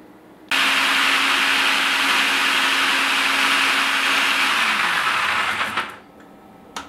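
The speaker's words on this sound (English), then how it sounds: "Process the cored apples through a food processor with a shredding attachment" A food processor with a shredding attachment runs loud and steady, shredding cored apples for cider, a continuous motor whir with a low hum that slows and cuts off near the end, no talking.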